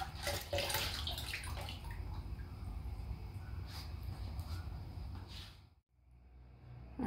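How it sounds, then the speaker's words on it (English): Aluminum part going into an acid anodizing bath, heard as steady close splashing and running water that suddenly cuts off near the end. "now this is going to go into the acid bath for anodizing"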